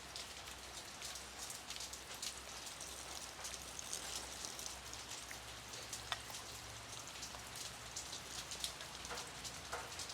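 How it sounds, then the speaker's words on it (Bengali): Steady rain patters on a surface outdoors while ghee is being made at home, a dense continuous hiss with scattered louder drops, heard alone without any voices. "বৃষ্টি পড়ছে"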